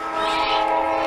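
Train rolling past a softball field, a short train of an engine with one or two cars, heard as a steady loud rumble with sustained horn-like tones throughout.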